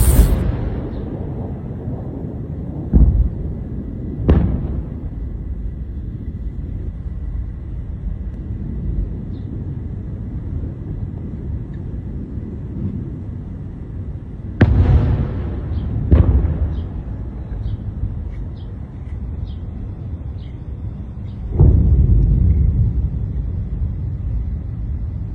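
Missile launches and explosions in the night sky over Iran: scattered distant booms and sharp cracks spread across a steady low rumble, with a heavier roaring burst near the end.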